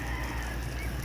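Ducks quacking together in a flock, a steady, dense honking chatter heard nearby with no talk over it.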